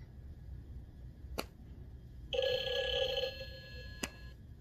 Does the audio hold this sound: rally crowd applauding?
no